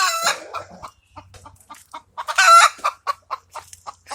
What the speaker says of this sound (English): This chicken's pretty cocky.